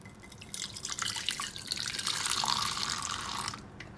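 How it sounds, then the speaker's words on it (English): Hot water pours steadily into a bowl for cleaning makeup brushes, a close, continuous splashing trickle lasting several seconds with no talking. "Now to it we will be adding this hot water."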